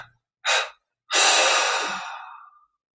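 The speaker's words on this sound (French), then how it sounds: "On expire en 3 fois." A person meditating exhales in breaths through the mouth, a short soft puff followed by a longer, fading outward breath, close and quiet with silence between.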